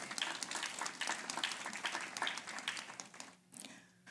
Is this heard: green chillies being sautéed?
no